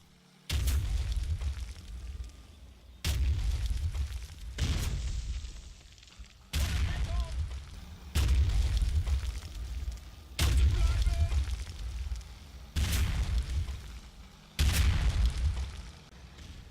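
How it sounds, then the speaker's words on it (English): 60mm mortar shells land in a Combat Mission battle, about seven heavy booming blasts in an uneven rhythm, each one thudding loudly and then rumbling away. "No sooner is the objective secured than 60mm mortar shells start hitting around 1st Platoon"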